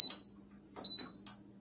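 A kitchen oven timer goes off while banana bread bakes at 350 degrees, sounding two short, high electronic beeps with a pause between them, plus a few faint clicks.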